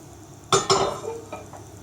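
Browned onion tipped into a pan of pork tenderloins in sauce, two quick splashing clatters followed by a soft sizzle and faint utensil taps.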